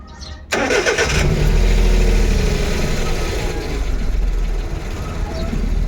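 A Suzuki Every DA64 mini van engine cranks briefly and catches, settling into a steady, loud idle close by, with no talking over it.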